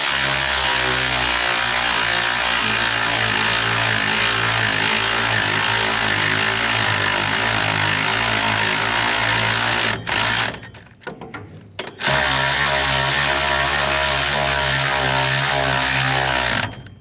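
A Predator small engine swapped into a 1926 Ford Model T runs at a steady, loud idle with an even mechanical drone, cutting out briefly near the end before firing back up and settling into the same rhythm.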